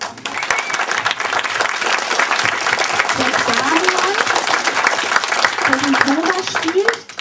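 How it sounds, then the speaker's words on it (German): Audience applause for a stage actress, loud dense clapping and cheering throughout, with voices talking and calling out over it. "Wo bist du, Clara? Da, Applaus."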